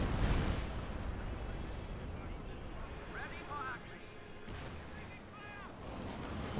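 Walking Stuka rocket artillery barrage in the Company of Heroes 2 strategy game, heard as a dense, rumbling wash of distant blasts and launches over several seconds, with faint whistling streaks in the middle.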